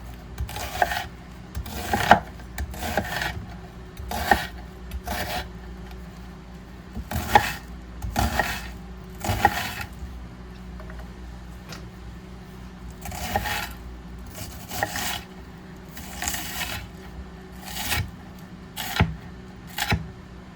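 A knife slicing through an onion on a board while homemade red pasta sauce is prepared, heard as a series of irregular, close, crisp cuts and taps spread out over the stretch, some in quick clusters.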